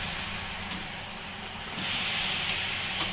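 Water poured into a hot kadhai to melt jaggery for sesame laddoos, a steady hiss of steam that swells louder partway through, close and without talk.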